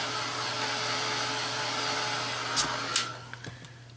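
A hair dryer blows steadily and close up to dry acrylic paint, a continuous whooshing hum for most of the stretch, followed by a few light clicks and knocks near the end.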